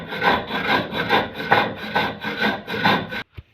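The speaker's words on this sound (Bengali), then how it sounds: "আমি এবার চিনিটা গুঁড়ো করে নেব শিলে।" Sugar is ground on a stone grinding slab (shil), making a rhythmic scraping, rubbing stroke about twice a second, close and loud, before it stops abruptly.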